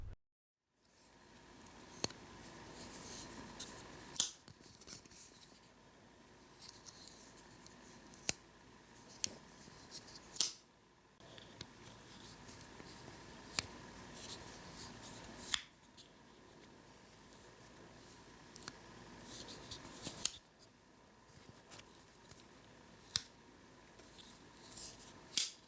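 Rough Rider slip joint pocket knives, an Improved Muskrat and a five-blade Sowbelly, opened and closed indoors, giving a series of sharp metallic clicks and snaps spaced every few seconds over a faint steady background hum.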